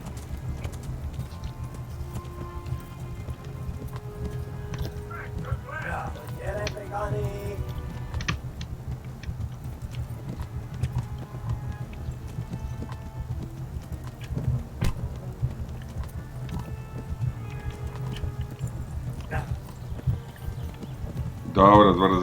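Horse hooves clip-clop in the medieval video game Kingdom Come: Deliverance, a steady patter of footfalls over a low rumbling background, with brief louder accents near the end.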